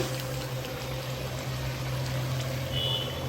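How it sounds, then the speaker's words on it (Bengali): Boiled beef with its broth is poured from a pressure cooker into a wok, a continuous liquid pour and trickle under a steady low kitchen hum. "প্রেশার কুকার থেকে ঢেলে নিব কড়াইতে"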